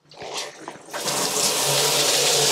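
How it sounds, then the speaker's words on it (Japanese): Water from a rain-style or regular shower in a hotel shower booth at the Conrad Tokyo bursts on after a few clicks of the handle, then pours in a strong, steady hiss close by. "こちらが右側部分が普通のシャワーとなってまして"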